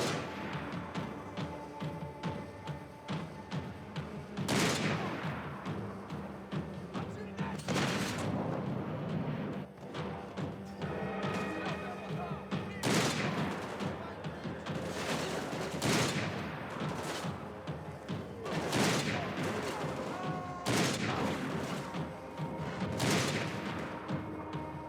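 Sniper and gunfire in the Max Payne 3 video game, repeated loud blasts and bursts of shots every few seconds over a continuous action soundtrack.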